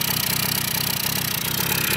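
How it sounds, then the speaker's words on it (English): A Kawasaki KDE100 motorcycle engine idles steadily with its side cover off, a close, continuous mechanical chatter at an even pace throughout. "And there she is, a Kawasaki KDE100. You can hear it a little louder with the side cover off"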